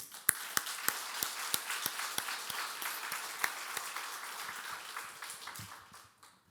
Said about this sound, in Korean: 수고했다는 박수 다시 한번 칩시다.